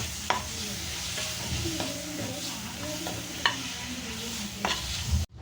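Two chopped medium tomatoes sautéing in a pan with curry leaves, a steady sizzle broken by spoon stirring and a few sharp scrapes against the pan, fairly close.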